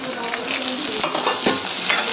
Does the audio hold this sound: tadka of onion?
yes